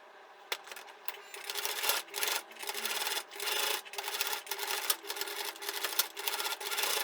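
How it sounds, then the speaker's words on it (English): A sewing machine stitches across a padded cosmetic bag in quick rhythmic bursts of clattering, with short pauses between runs, heard close and fairly quiet. "I'm going to sew across, and once that's done I'll do the same on the other side"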